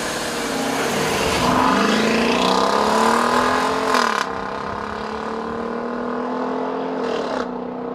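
2014 Dodge Durango R/T with a 5.7-liter Hemi V8, paddle-shift automatic and all-wheel drive, launching in a drag race: a loud, close engine roar climbs steadily in pitch, breaks briefly at a gear change, then keeps pulling, with no talk.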